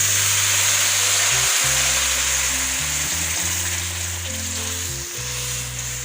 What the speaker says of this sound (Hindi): अब मैं इसमें गुड़ वाली चाशनी शामिल कर दूँ।